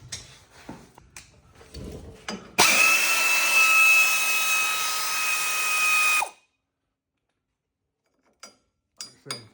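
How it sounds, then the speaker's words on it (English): A power tool, likely an impact or power ratchet, loosening bolts under a 2019 Jeep Wrangler Sport during a lift install: a loud, close, continuous whirring burst of several seconds, with brief clinks before and after. "Bring him in the ratchet."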